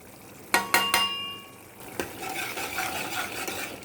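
Coriander, cumin, turmeric and garam masala are stir-fried in oil. Three sharp metallic clinks of a utensil on the pan come first, then a soft, continuous sizzle and scraping at close range.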